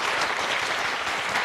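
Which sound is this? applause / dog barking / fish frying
applause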